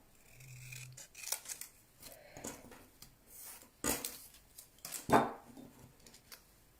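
Precision scissors snipping paper card while crafting a greeting card, a handful of irregular close snips and rubbing sounds with short pauses, one sharper cut standing out near the end.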